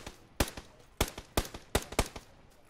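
Gunfire from the video game PUBG crackles in several quick, sharp shots of moderate loudness, some single and some in close pairs, with no talking over them.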